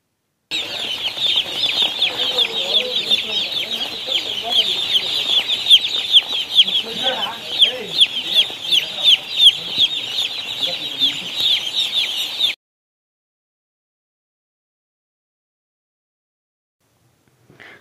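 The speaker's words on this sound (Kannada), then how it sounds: "ಹಾಗೆ ಈ ಕೋಳಿಗಳನ್ನು ನೋಡ್ಕೊಳ್ಳೋದು ಅಷ್ಟೇ ಫ್ರೆಂಡ್ಸ್, ತುಂಬಾ ಕಷ್ಟ." Chickens on a poultry farm cluck and chatter continuously and fairly loudly for about twelve seconds, a dense flock chorus with no talk, then cut off into silence.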